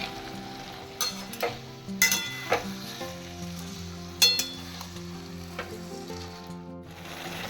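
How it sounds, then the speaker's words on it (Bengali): Potatoes and peas sizzle and fry with spices in mutton fat for ghugni, with steady crackling under scattered spoon stirs and a few sharp clinks against the pot. "এখন আমি আলু আর মটরটা দিয়ে দিচ্ছি এবার মশলার সাথে একটু কষে নিব"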